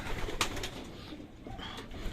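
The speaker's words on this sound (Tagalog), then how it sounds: "Ayan yung mga ibon, oh." Soft, low cooing of several pigeons in a loft rises and falls over a rustling background, with a few sharp clicks.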